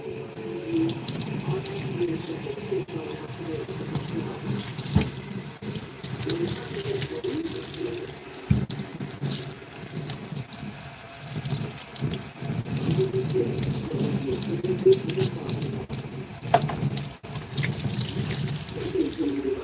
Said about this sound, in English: Every time you do it, you got to push all the water that's saturated in the roller out.